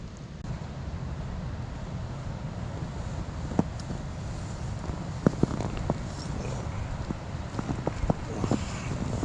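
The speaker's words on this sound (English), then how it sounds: "What a loud night. Really windy." Strong wind roars steadily through the night on open moorland near a woodland camp, a dense continuous rush with occasional sharp knocks and taps over it, no one speaking.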